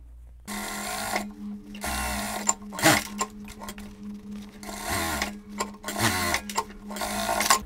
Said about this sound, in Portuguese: faço um pesponto no contorno para poder fechar essa abertura e dar acabamento